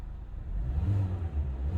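A 2021 Kia Forte's 2-liter naturally aspirated engine rumbles low and rises into a rev, steady and fairly close, with no voices.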